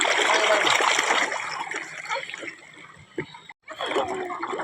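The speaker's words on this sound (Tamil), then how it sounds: "தண்ணி" Water trickling and splashing at a fish pond, a busy close burble with a faint voice underneath, thinning out toward the end before a short gap and a return of the gurgling flow.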